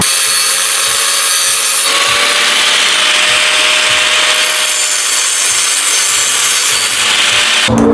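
A bolt end on a 1979 Fox Body suspension and rear end swap is cut off with a power tool, a loud continuous grinding rasp with no talk.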